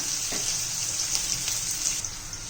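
Onion is sautéed in a pan for a coriander-leaf bhaji, giving off a steady, close sizzle with faint stirring scrapes throughout.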